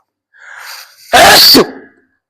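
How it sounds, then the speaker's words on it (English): A single loud, sharp sneeze very close up, preceded by a brief inhale. "Didn't mean to sneeze up all in your eardrum"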